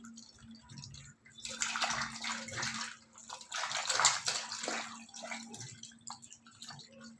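Cut breadfruit pieces are washed in water, giving close splashing and sloshing with scattered drips, rising and falling in intensity, and no talking.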